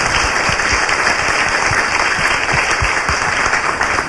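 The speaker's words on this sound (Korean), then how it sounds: "박수 부탁드려요" A studio audience claps loudly and steadily, a dense wash of many hands that stays at an even level throughout without letting up.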